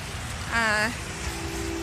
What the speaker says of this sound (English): It is a rainy day here in Denver, Colorado.